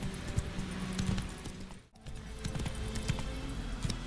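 A horse trots in The Witcher 3, steady hoofbeats thudding along a path with a brief dip midway, fairly close and clear over a soft background bed of game ambience.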